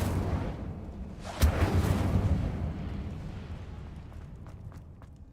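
Incendio fire spell cast in Hogwarts Legacy: a sudden fiery burst over a low rumbling game backdrop, followed by a fading crackle and faint trailing pops.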